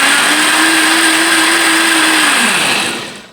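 A Vitamix blender runs at a steady high whine while blending serrano pepper hot sauce, a loud continuous motor drone holding level before winding down and cutting off near the end.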